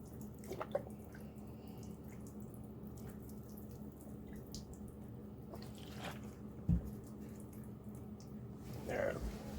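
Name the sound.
rinsing a circuit board with water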